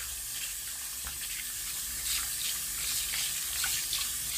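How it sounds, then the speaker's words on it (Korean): Tap water runs steadily into a sink as hands are rinsed under it without soap, a constant close splashing hiss with small ripples of movement. "비누 없이 물로 닦아보겠습니다."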